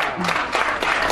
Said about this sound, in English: Give them a round of applause right here.